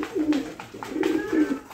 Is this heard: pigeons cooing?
yes